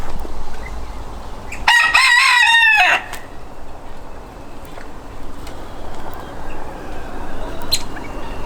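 A rooster crows once in a chicken breeding pen, a loud, close cock-a-doodle-doo lasting about a second, against a continuous rustling farmyard background with faint clucks and calls from other birds.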